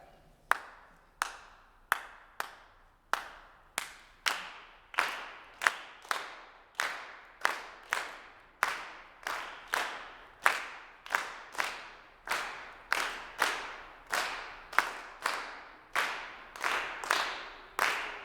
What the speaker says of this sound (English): I'm gonna clap 2 bars of the rhythm, and you're gonna get ready to come in.